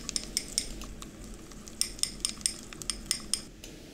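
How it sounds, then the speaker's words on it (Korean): Yeast being stirred with a bit of water in a small sanitized cup, giving light, irregular clinks and scrapes of a utensil against the cup, close and fairly quiet, with no voices. "여기에 이스트 8g을 넣고 약간의 물을 넣어서 이스트를 잘 풀어줍니다."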